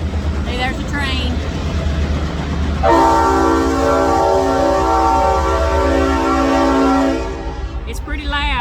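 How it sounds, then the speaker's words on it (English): A train passes close by, loud and sustained with a strong horn-like tonal drone for several seconds, rising abruptly then easing off; a man's speech is heard before and after it. "There's a train."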